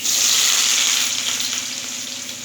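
Onions fry in a pan alongside chana dal, a steady, close sizzle with no voices.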